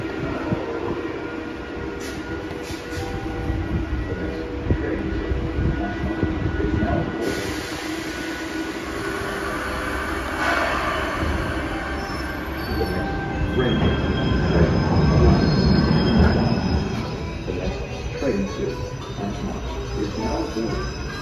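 A Boston Red Line subway train moves through an underground station, its wheels squealing loudly and steadily over a low rumble. The screech rises and wavers throughout while the train runs continuously nearby.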